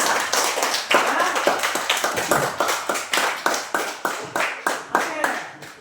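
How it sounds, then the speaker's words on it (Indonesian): Students in a classroom clap together for a group in a loud, close, steady run of sharp claps, each about a quarter second apart and keeping an even, patterned rhythm. "kita tepuk tangan buat kelompok 1"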